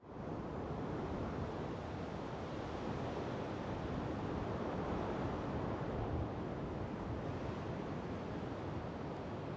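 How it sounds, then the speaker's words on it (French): Steady, loud rush of wind sweeping over sand dunes on the Baltic coast, a dense continuous roar with slow surges and no pauses, close and unbroken throughout. "À l'infini, le vent de la Baltique sculpte un long ruban de sable."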